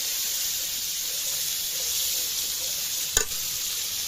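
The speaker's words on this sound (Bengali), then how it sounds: "আদা রসুন বাটা, জিরা বাটা, তারপর ভালো করে কষিয়ে নেব।" Ginger-garlic and cumin paste stir-fried in a pan, giving a steady close hiss of sizzling throughout with a single brief clank near the end; no talking.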